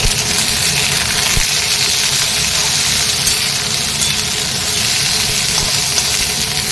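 Fish and chopped onion frying in a pan, a dense steady sizzle that stays loud and unbroken throughout, with no talking.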